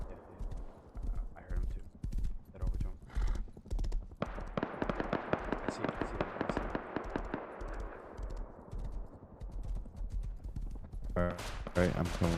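Horse hooves clip-clop in steady rhythmic bursts in the survival game Rust, with distant gunfire cracks scattered around and a voice talking over it.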